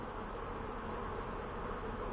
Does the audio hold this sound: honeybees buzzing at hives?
yes